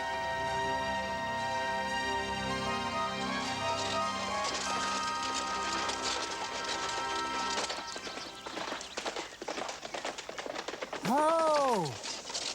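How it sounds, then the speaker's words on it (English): A group of horses approaches from behind in an animated scene, hoofbeats and clattering rising over music before a loud neigh near the end. "A bunch of horses coming up behind."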